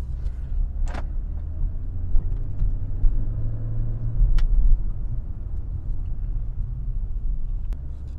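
A 2004 Mercedes CLK500 rolls along at low speed over bumps, its steady low road rumble and engine hum broken by a few soft thumps and knocks from the suspension.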